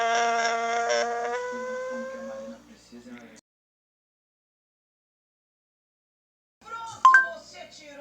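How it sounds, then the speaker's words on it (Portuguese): A llama call plays from Google Assistant as a sustained, nasal, whining hum that slides upward, followed by a few softer grunts. After a pause a short synthetic voice speaks. "Este é o som de uma lhama."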